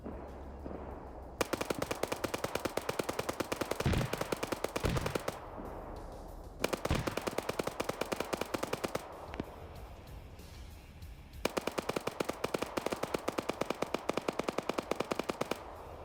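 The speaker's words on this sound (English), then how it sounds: "I think there's a machine gun trying to suppress this spot, but the rounds are going overhead" Sustained machine gun fire in a PvP military shooter match, long rapid automatic bursts with short pauses between them, loud and continuous, with rounds passing overhead.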